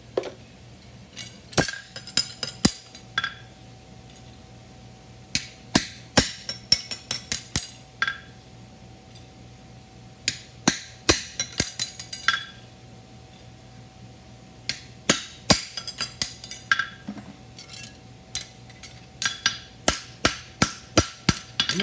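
Close, sharp hammer blows ring on hot metal while a horseshoe is forged, striking the foot surface edge in quick bursts of several ringing strikes separated by short pauses, with a faint steady hum underneath.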